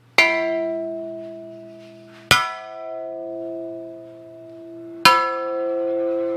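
A Corvair engine bell housing struck with a tool rings like a church bell: three loud metallic clangs, each followed by a long, slowly fading resonant tone.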